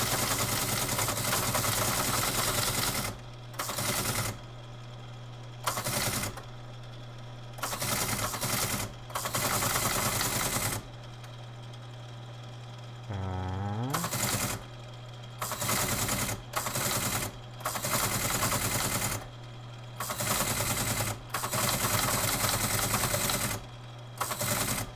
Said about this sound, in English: it's muscle memory for the one-fingered typing